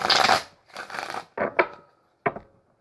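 Cards riffle and snap in a few quick bursts, close and crisp, with short pauses between each shuffle.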